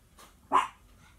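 A dog barks once inside a quiet home, a single short, somewhat muffled bark rising briefly above a faint background hush.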